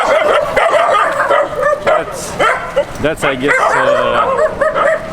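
Dogs bark and yip repeatedly in quick, uneven bursts, loud and close, with some whimpering mixed in, while a person speaks briefly over them.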